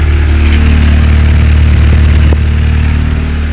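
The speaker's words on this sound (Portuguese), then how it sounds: "Motor é 8 válvulas esse aqui, galera." A 13-year-old 2.0 8-valve car engine idles loud and close, a steady low rumble that holds its even pace the whole time with only slight wavering and no speech.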